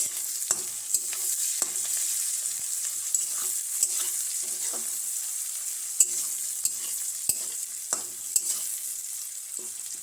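Onions fried until reddish-brown, with garlic paste being stirred in for a chicken dish: a steady close sizzle in the pan, broken by sharp scrape and tap clicks from the spoon at irregular intervals, with no talking.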